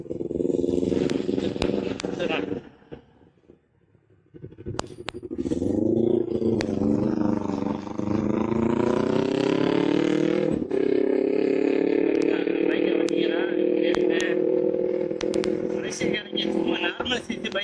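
A motorcycle engine runs steadily while someone rides on Penang Island, Malaysia. It sounds close and loud and holds a sustained drone that briefly drops around the third second and then climbs back up.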